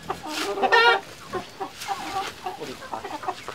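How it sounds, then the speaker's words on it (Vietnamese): A flock of chickens clucking and squawking close by, busy overlapping calls with a louder burst early on, then a steady scatter of clucks. "Đấy lại mua cho em Sử một đàn gà nữa"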